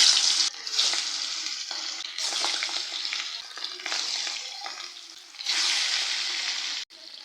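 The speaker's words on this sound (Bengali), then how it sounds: "এবার মাছগুলোকে আমি ভেজে নেব।" Marinated pangas fish frying in hot mustard oil, a loud, steady crackling sizzle that swells and dips in several bursts, likely from stirring, with brief quieter gaps between them.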